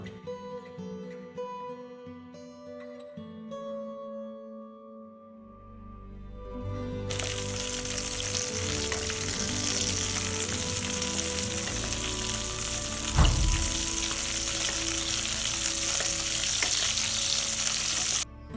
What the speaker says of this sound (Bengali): এবার ওই তেলে আলু আর ফুলকপিটা ভেজে নেব